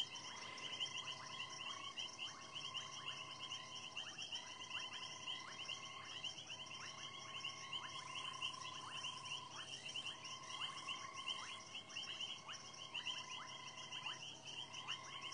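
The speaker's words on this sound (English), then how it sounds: "There are a number of different frogs calling." Several frog species, including reed frogs and grass frogs, call together at night in a wetland, a steady chorus of rhythmic repeated trills and clicks with faint insect and bird chirps behind, no talking.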